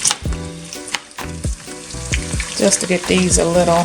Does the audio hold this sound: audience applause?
no